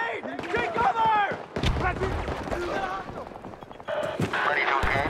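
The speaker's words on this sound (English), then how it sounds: "Grenade! Take cover!" A grenade explosion and gunfire in the video game Battlefield 2042, with irregular gunshots, a sudden heavy low boom midway and more firing after, mixed with shouted soldier voices.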